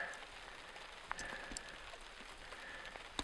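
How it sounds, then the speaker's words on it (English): Rain coming down steadily outdoors on ice, a dense even hiss with a few sharper drops standing out, fairly faint and without talk. "the rain is coming down pretty good all of a sudden down here."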